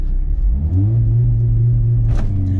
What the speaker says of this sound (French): Tu vas lancer un launch control